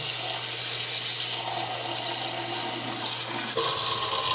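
Hot water pours steadily from a kitchen tap for ramen, a continuous loud rushing stream with a slight change in tone near the end.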